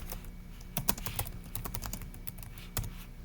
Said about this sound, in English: Start typing away.